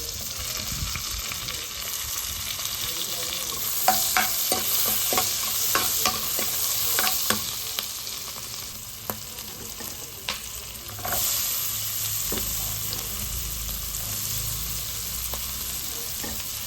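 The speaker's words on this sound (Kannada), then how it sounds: "ಕಂಪ್ಲೀಟಾಗಿ ಬಟರ್ನಲ್ಲೇ ಫ್ರೈ ಮಾಡ್ತಾ ಇದ್ದೀನಿ" Green chillies frying in melted butter in a pan, a steady close sizzle with intermittent stirring clicks and scrapes throughout, no voices.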